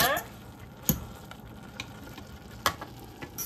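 A steady hiss of water boiling pancit canton noodles in a pot, with a couple of sharp clicks and knocks from utensils, fairly quiet and close.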